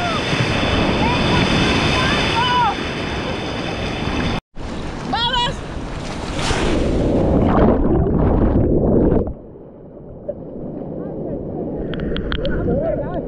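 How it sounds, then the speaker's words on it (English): Ocean surf washes steadily onto a beach in Brazil under strong wind noise, with faint voices in the background; after a brief dropout the roar rises, then falls quieter near the end. "just a gorgeous beach"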